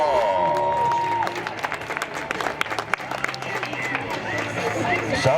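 At a ranch bronc riding rodeo, an outdoor crowd breaks into applause and cheering with general hubbub, while music and a voice carry over the clapping.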